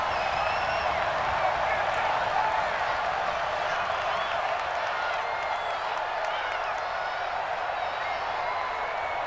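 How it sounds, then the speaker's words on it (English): Stadium crowd in the Madden football video game, a steady, dense roar from a domed arena during a Saints versus 49ers game, loud and unbroken throughout. "The crowd here in the Dome making things difficult"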